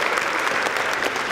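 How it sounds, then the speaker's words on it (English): A conference audience applauds at a hackathon demo session, a continuous wash of many hands clapping at close range, steady and fairly loud throughout. "Another round of applause for these guys."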